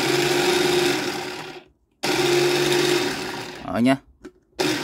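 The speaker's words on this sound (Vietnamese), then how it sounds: "cái lưỡi quay nó vẫn quay bình thường này" A Japanese domestic meat grinder's motor whirs steadily with its blade spinning, cuts out briefly, starts again, then winds down with a falling pitch before a short burst resumes.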